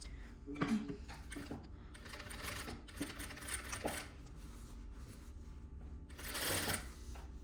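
A sewing machine runs in uneven bursts while stitching a peplum seam with a 1 cm seam allowance. The stitching is quiet and mixed with light handling clicks and fabric rustle.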